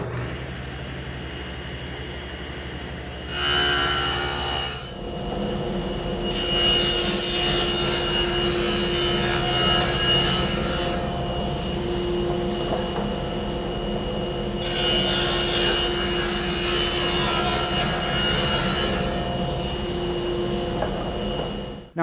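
A table saw cuts kerfs into wood, the motor humming steadily while the blade bites in repeated rising bursts of whining, rasping cutting, loud and close.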